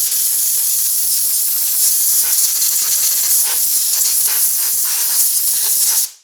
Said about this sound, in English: And I'm just going to air blow it quickly.